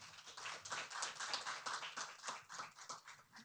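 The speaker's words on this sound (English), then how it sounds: "let's give a round of applause for our mayor of the day." Round of applause from attendees at a Carson, California city council meeting, honoring the mayor of the day; dense, steady clapping from a roomful of people, moderately loud throughout.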